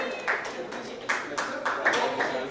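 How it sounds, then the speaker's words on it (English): Audience clapping for an award presented to an actress at a music launch event, a moderate crowd applause with irregular claps that swell and dip in small bursts over a steady bed, fairly close and loud. "A big round of applause, please."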